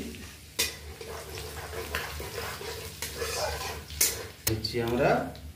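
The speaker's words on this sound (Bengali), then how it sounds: "তারপরে আমরা দিয়ে দেব কারি পাতা, অল্প ভেজে নিচ্ছি।" Curry leaves with garlic paste briefly frying in a pan for an aloo-bhindi dish, a steady sizzle with occasional stirring scrapes and clinks, while a voice talks over it.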